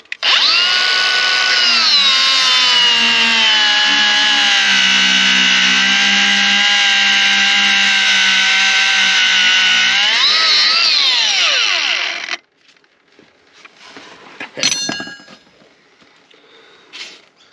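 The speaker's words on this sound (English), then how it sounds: "I'll run the grinder through that hose so we can" A loud, sustained angle grinder whine cuts through a hydraulic hose on a Fordson Power Major crane, running steadily for about twelve seconds, its pitch dipping near the end before stopping, followed by a few faint clanks.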